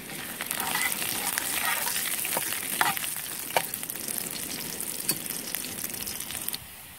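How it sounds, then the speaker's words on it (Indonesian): Onions sizzling steadily in a hot pan, a continuous close frying hiss broken by several sharp spatula scrapes and taps, ending abruptly. "Goreng bawang ini."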